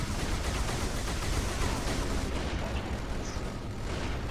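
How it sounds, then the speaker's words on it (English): Grenade explosions in the game Halo 2 give a loud, continuous wash of booming blasts and crackling noise that dominates the whole stretch without pause. "Where are these nades coming from?"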